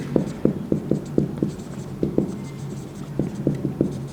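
Chalk or marker taps and strokes across a classroom board during a physics lesson, a quick series of sharp, close ticks in uneven bursts with short pauses between them.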